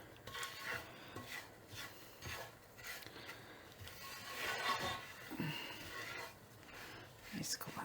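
Coconut is dry-roasted in a pan and stirred, giving soft, irregular scraping and rubbing strokes at close range, quiet and repeated in loose rhythm.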